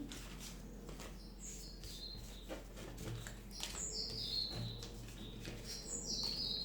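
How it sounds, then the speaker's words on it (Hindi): A small bird chirps and sings in short, bright repeated phrases, fairly faint against a steady indoor background hum, with no talking. "हमारे यहाँ ना एक चिड़िया आती है, इतनी प्यारी बोलती है ये"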